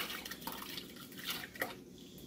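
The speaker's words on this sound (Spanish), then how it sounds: "Vertimos el betabel." Beetroot poured into sweetened beetroot water to make a beetroot salad gives soft, faint watery splashes and drips, with no talking.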